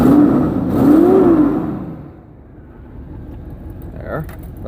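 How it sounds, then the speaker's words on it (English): A Chevy 400 cubic inch small block revs up in a quick burst right after an oil change, then drops back to a low idle; the engine is loud and close, with light clatter near the end. "I'm gonna give it a quick rev or two."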